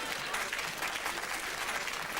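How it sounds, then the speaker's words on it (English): Steady applause from a television studio audience, a dense even patter of clapping holding at a constant level throughout, with no voices over it. "Give them a round of applause."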